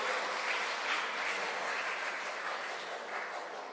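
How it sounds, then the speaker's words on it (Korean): Steady applause from a church audience at a hymn contest, a broad even wash of clapping at moderate distance that holds throughout without voices. "박수 부탁드립니다."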